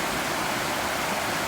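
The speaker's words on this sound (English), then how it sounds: "You see the creek is pretty much a river now." The flooded Arroyo Del Valle creek in Pleasanton, California rushes steadily, a continuous broadband roar of fast-moving water at moderate loudness with no voices.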